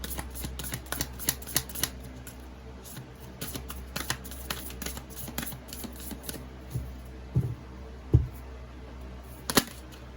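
Tarot cards being shuffled by hand: a steady run of crisp riffling and flicking snaps that carries through the whole stretch, close and clear over a low background hum.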